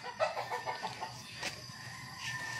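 Chickens and roosters on a breeding farm, a rooster crowing amid rhythmic clucking from the flock, moderately close and fairly quiet, with no talk over it.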